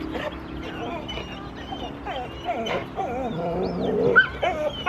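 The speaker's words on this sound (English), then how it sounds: "Oh god, killer dog." A dog outdoors on a nice morning barks in short yips and whimpers in high, wavering whines, close by and fairly loud, with faint background voices.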